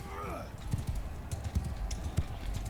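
Rapid clip-clopping hooves thud during horseback combat in Mount & Blade II: Bannerlord under a steady game soundscape, with sharp clanks scattered through the galloping rhythm.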